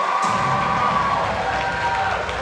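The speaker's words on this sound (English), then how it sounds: "give a round of applause." A crowd cheers and whoops with applause at an HBCU Week event, a dense, loud, sustained roar with high-pitched shouts over it, filling the whole moment without any talk.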